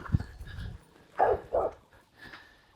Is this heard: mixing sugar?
no